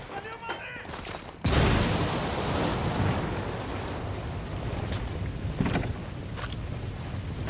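A frag grenade detonates in Ghost Recon Wildlands: a quiet stretch with faint voices gives way to a sudden loud blast, followed by seconds of heavy rumbling debris and noise that slowly settle.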